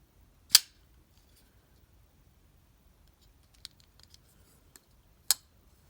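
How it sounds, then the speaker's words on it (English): Civivi Baklash balisong knife being flipped, a few sharp metallic clicks spaced apart, with faint light ticks between them in an otherwise quiet room. "And the sound that this knife makes."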